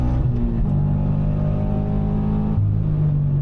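A Subaru BRZ track car accelerating hard on a Formula 1 circuit, loud in-cabin engine roar climbing in pitch, briefly dipping with a shift and then rising again.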